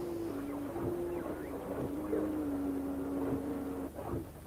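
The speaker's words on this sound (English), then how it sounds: "mechanical movements and operating sounds" Mechanical whirring and operating sounds from a moving robot dog swarm: a faint, steady tonal hum with scattered soft clicks and servo-like chirps, quiet and continuous throughout.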